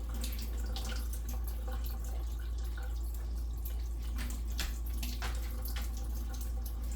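Water runs steadily from a kitchen tap, waiting for it to warm, a constant close splashing hiss with a low hum underneath and no talking.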